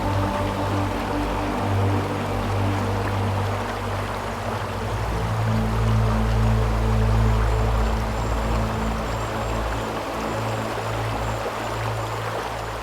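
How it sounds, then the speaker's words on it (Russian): The Sherlama waterfall in Bashkortostan roars with a continuous rush of falling water, loud and close, with a low rumbling undertone and no voices. "Водопад Шерлама."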